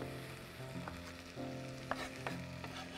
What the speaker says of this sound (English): As these ingredients are coming together, they start to sizzle.